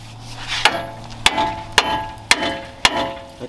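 A hammer strikes metal during a chrome suspension lift install on a truck, six sharp ringing blows spaced about half a second apart, close and loud over a low background hum.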